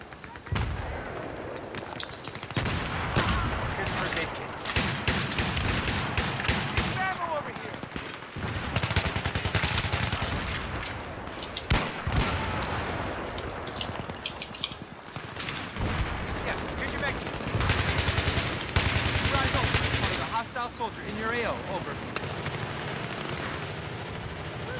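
AK-74M assault rifle fire in the Battlefield 3 shooter on the Canals map, loud repeated automatic bursts and rapid volleys with brief pauses, with a voice talking over the gunfire throughout.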